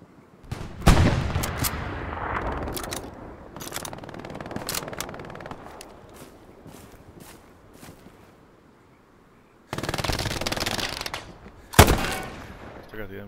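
A half-track's mounted machine gun in the video game Hell Let Loose fires in loud, rapid bursts separated by quieter gaps, with other battlefield gunfire and faint voices in the background.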